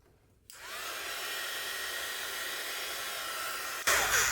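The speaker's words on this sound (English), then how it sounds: "I would take my heat tool" A craft heat tool switches on after a short silence to warm an oil pastel, giving a steady, close hair-dryer-like blowing roar, with a brief louder burst at the end.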